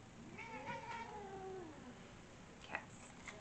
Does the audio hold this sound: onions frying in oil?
no